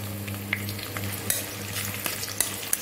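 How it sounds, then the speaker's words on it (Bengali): Onions sizzle and fry steadily in oil in a pan, a continuous close crackle with occasional sharp pops and scraping stir sounds, no voices. "আমি পেঁয়াজটা ভাজতেছি"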